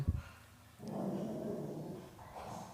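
A dog barks and growls in the background during a Free Fire ranked match, a low rumbling growl that carries on for a couple of seconds after an opening yelp, faint and distant under game noise.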